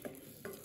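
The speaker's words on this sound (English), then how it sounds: "we're gonna stir it for a few minutes" A butter and flour roux stirred in a pan, heard as two quick, faint scrapes against a quiet sizzle.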